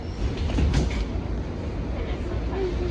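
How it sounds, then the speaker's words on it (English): A Washington Metro subway train pulls out of a station, a steady broadband rumble swelling briefly and then holding at a moderate level, with faint voices in the background. "There goes that train."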